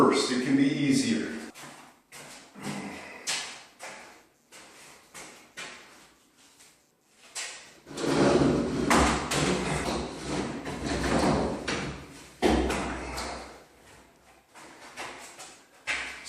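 A mirrored sliding closet door lifted and set onto its track, giving scattered knocks, rattles and a longer stretch of rumbling, scraping panel movement, close by with pauses between the clunks.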